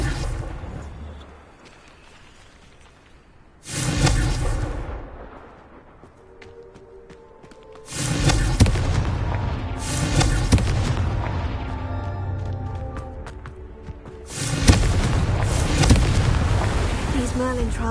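Three big fiery blasts from the Confringo spell in Hogwarts Legacy, each a loud booming burst that trails into a long rumbling decay, spaced a few seconds apart.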